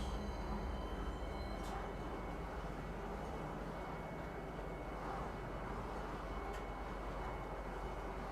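A metro train in Star Citizen rolls along with a steady, faint low rumble and a continuous hum of rail noise, even and unbroken throughout.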